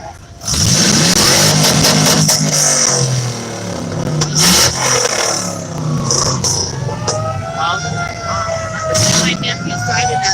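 A 1957 Chevy's engine revs and rumbles in a Fourth of July street parade in Cody, Wyoming, loud and sustained amid crowd noise, with people talking nearby throughout.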